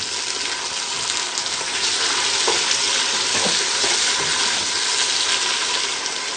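Tomatoes frying for ojri curry, giving a loud, continuous sizzle with stirring scrapes throughout, close and uninterrupted, with no voices.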